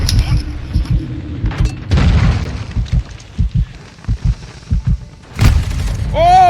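Gunfire in the video game Modern Warfare 2, heard as a run of loud, punchy booming bursts in an irregular rhythm with a sharper blast near the end, played alone without talk.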